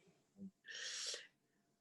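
A single sharp sneeze bursts out after a short intake of breath, close and fairly faint, with a soft breathy tail and quiet room tone around it.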